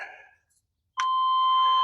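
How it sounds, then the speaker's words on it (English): A short beep sounds, then after a pause a steady electronic buzzer tone comes on and holds continuously, from the instrument panel of a 1993 GM S10/S15 pickup after a repair. "Already I could hear the buzzer comes on that didn't come on before"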